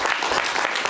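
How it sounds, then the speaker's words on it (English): A brief burst of dense audience applause at the Portland Retro Gaming Expo 2022 prototypes talk, loud and continuous clapping filling the whole moment. "you have to give Roger a round of applause for making that possible."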